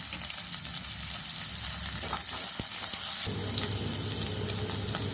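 Cumin, onion and green chilli pieces fry for a cabbage tomato stir-fry, with a loud, steady sizzle that swells partway through, plus faint stirring, and no talk.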